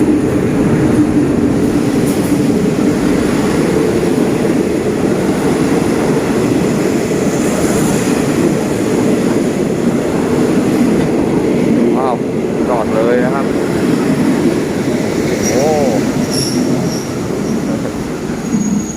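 A GE GEA locomotive, number 4537, hauling train 234 into Muak Lek station in Thailand after a long delay: a loud, continuous rumble of rolling wagons with brief high wheel squeals partway through, close by.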